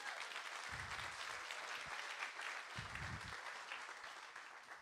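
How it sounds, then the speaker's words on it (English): A church audience clapping for the worship team during a service, a soft, steady spatter of applause heard from a distance, with a couple of low thumps underneath. "Can we clap for the worship team right now?"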